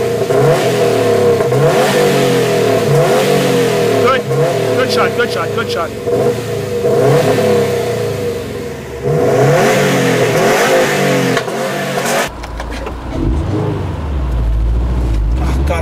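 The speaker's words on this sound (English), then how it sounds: "They do like the 4-cylinder rumble very well, Subaru." A 2015 Subaru WRX STI's four-cylinder engine revs hard in repeated loud bursts, its boxer rumble rising and falling in pitch, while people talk over it inside the car.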